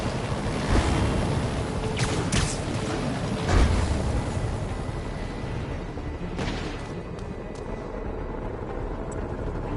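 A dense, rumbling roar of video game helicopter rotor and engine noise fills the scene continuously, with a few sharp bursts standing out over the steady wash.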